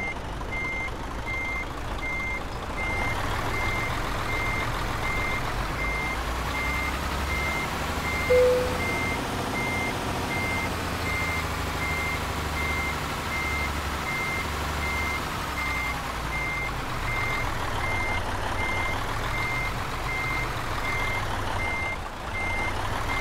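Reversing bus in Euro Truck Simulator 2 emits a steady, evenly spaced electronic backup beep throughout, over a low continuous diesel engine hum as the vehicle maneuvers into a parking spot.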